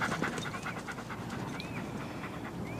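A dog pants close by in quick, steady breaths that continue throughout, with no talking over it.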